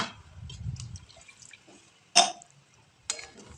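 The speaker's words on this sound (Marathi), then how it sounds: "हवं तेवढं आपल्याला पाणी त्यामध्ये ॲड करून घ्यायचं आहे" Water poured into thin garlicky spinach bhaji cooking in a pan, heard as two short splashy bursts of liquid over a quiet kitchen background, with faint bubbling between them.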